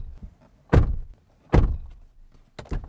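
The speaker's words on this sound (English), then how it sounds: "And the final thing we check is the doors." Doors of a 2022 SsangYong Musso pickup shut with solid, heavy thunks, two clear closes followed by a quicker pair of knocks, close up and loud with quiet gaps between.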